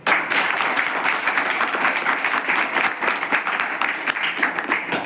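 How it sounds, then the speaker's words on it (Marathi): Audience clapping at a public event, steady, loud and close applause with dense overlapping hand claps that hold at the same level throughout. "तालियां ऐसे बजाओ कि हम सबको जोश आ जाए"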